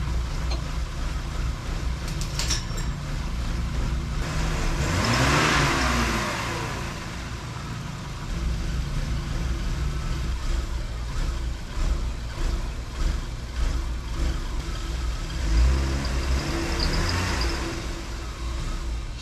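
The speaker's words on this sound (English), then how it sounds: "I got it running. It still idles kind of weird, but it runs a little bit better now" A BMW M50 engine runs on its own at a rough, uneven idle, a steady close mechanical drone with a couple of brief swells and no talking over it.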